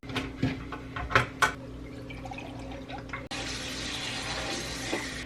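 Hot water is poured into a bread machine pan, a short pouring and dripping sound with a few clinks, followed by a steady, louder rush of liquid that runs on to the end.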